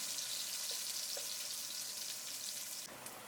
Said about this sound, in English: Add the shallots and garlic to the pot. Fry them for 2 to 3 minutes.